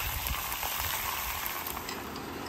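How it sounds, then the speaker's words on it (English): Onion rings frying on a griddle during a BBQ Western burger cook, a continuous close sizzle with faint crackles, steady and fairly quiet throughout with no talking. "Our onion rings are still frying."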